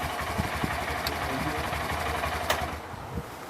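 A Honda CB125F motorcycle engine idling steadily nearby, a low continuous rumble with a faint mechanical chatter and occasional small knocks.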